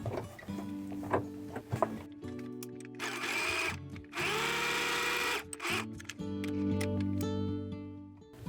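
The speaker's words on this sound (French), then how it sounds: "là j'ai fait un point droit sur ma machine" A domestic sewing machine runs a straight stitch on jersey fabric, whirring steadily in several runs of a second or two with short pauses, near and fairly quiet with faint background hum.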